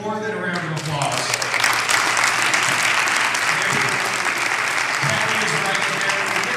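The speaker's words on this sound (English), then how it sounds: "deserve more than a round of applause" Warm, sustained applause from a keynote audience at a hypnosis convention in Las Vegas, rising quickly and holding steady, with a voice heard briefly at the start.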